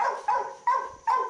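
A dog barks four times in an evenly spaced series, each bark loud and close with a sharp onset, and no talking around it.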